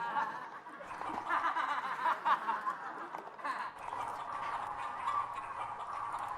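A person clucks and cackles in imitation of a chicken, a rapid, nasal run of fowl-like sounds with bursts of laughter-like chatter.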